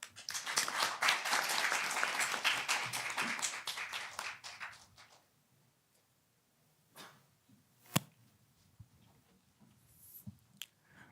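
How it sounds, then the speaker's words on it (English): A conference audience at a UNESCO UNITWIN international development event gives a round of applause. The clapping is full and sustained for about four seconds, then fades. Quiet room noise follows, broken by a couple of isolated knocks. "So let's give a big round of applause."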